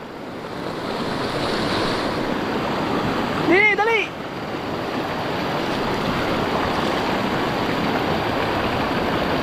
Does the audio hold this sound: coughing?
no